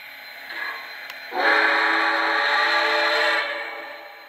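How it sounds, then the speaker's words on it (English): A Lionel toy steam locomotive, a LionChief Plus 2.0 or Legacy model, sounds its electronic steam whistle: a faint early toot, then one long, loud, steady multi-tone blast that holds for about two seconds before tapering off. "Good whistle."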